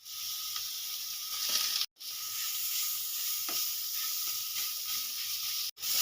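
Chopped bottle gourd and potatoes fry together in hot oil with hing, producing a loud, steady, close sizzle and hiss that runs continuously, broken by two brief dropouts.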